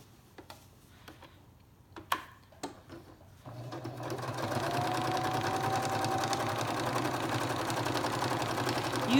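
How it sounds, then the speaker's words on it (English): Sewing machine stitching through denim for coasters, a steady close mechanical whir that starts after a few faint clicks and knocks, then runs continuously to the end. "Use a heavy duty needle on this because you're sewing through denim."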